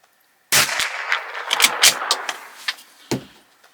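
Bergara B14R rifle firing .22 Eley Standard ammunition: a sharp, loud crack with a short rattling tail, a few smaller clicks, then a second crisp shot near the end.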